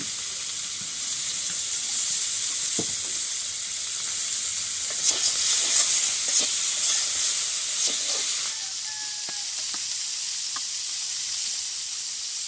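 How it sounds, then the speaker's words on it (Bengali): Shrimp fries lightly in oil, giving a continuous bright hiss that holds steady for the whole stretch, with a few faint clicks and taps mixed in. "হালকা একটু ভাজি করবো, বেশি ভাজবো না। একটু তেল দিয়ে দিচ্ছি।"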